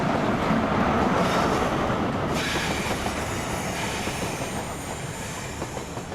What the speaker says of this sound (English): The trains keep coming thick and fast.